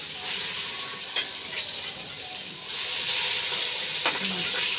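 Pulao rice frying with browned onions in a hot wok, a steady loud sizzle with occasional stirring scrapes, which swells noticeably louder partway through.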